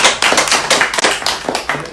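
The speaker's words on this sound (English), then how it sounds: "let's give a round of applause." An audience claps in applause at a youth program talk, a dense patter of many hands striking in quick irregular bursts, loud and close, continuing steadily without voices.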